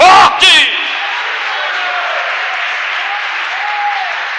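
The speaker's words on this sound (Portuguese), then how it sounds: "Aplaude e glorifique mais forte." Loud applause from a church congregation, a brief burst then sustained steady clapping filling the room, with some voices rising over it.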